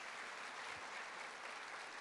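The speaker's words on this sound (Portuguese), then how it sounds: "Podemos aplaudir o Senhor mais uma vez pela vida delas?" A church congregation applauds during a Sunday morning service, a dense, even wash of clapping from many hands that holds steady throughout, slightly distant and without talk.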